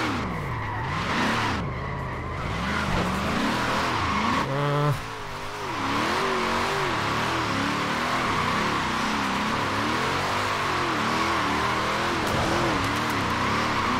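Car drifting and spinning donuts in Forza Horizon 4: a loud revving engine that rises and falls continuously while tires squeal and skid through repeated spins, near and unbroken, with no talk.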